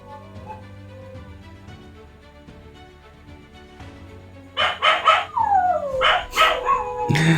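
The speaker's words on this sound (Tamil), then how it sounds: "இந்த நாய் வேறு நைட்டில் கத்திச்சே கிடக்குது" A dog barks at night, several loud, sharp, close barks in quick bursts that start partway through, over a steady background hum.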